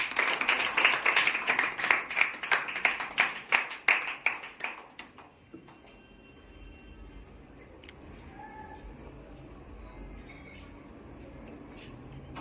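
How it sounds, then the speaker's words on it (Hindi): A crowd at a school farewell event claps steadily and fairly loudly for several seconds, then the applause fades out into a quiet room hum. "जोरदार तालियां"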